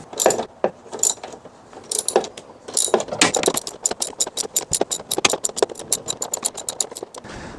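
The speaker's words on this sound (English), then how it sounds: "what I'm going to be doing is undoing this bolt pin that goes through here that ties the strap to the door frame" A ratchet tool clicks rapidly, undoing a T27 Torx bolt pin on the door check strap of an LEVC TXE taxi, in close bursts that settle into a steady run of sharp ratcheting clicks.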